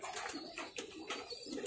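Soft, rolling coos from a pair of Madrasi pigeons, repeated several times at close range, quiet and unaccompanied by voices.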